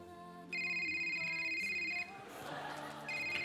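A telephone call rings through in layered electronic tones that cut in, pause and resume, with a brief burst of connection noise between rings, set in a comedy sketch inside a taxi.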